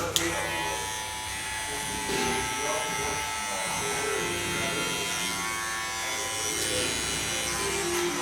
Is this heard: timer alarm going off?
no